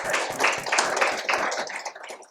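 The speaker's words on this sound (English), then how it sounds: "please give a big round of applause" An audience at an academic session on Sanskrit and Pali literature breaks into brisk, close applause that carries on steadily and then thins out.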